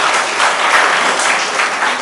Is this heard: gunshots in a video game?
no